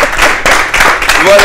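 Live audience applause at a French hip-hop stage show in Lyon, a broad, steady wash of clapping lasting the whole short moment, with voices mixed in.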